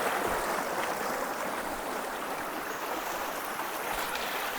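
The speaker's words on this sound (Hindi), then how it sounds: "ये देखो पानी के सोर्सेज और प्रेशर देखो इस टाइम जो ऊपर से पानी आ रहा है।" Water from mountain sources pours down under strong pressure near Tangling village on the Kinnaur Kailash route, a loud, continuous broadband rush that stays close and steady throughout.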